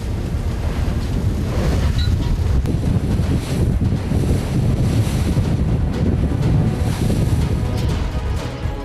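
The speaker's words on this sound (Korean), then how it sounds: "조금 전만 해도 잔잔했던 파도가 갑자기 거세진 것이다" Rough sea waves and strong wind around a fishing boat off Heuksando, a loud continuous roar of buffeting wind and crashing water with no voices.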